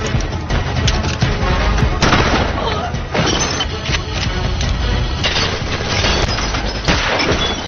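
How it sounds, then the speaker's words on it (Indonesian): Gunfire in a film shootout, including a shotgun, loud repeated sharp cracks over a dense, busy action soundtrack, with a narrator speaking over it. "Di tengah baku tembak yang masih berlangsung"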